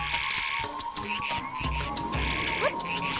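Frogs croaking in The Legend of Zelda: Echoes of Wisdom game, a rapid stream of short croaks over a rainy game soundscape with a steady tonal background, repeating irregularly throughout.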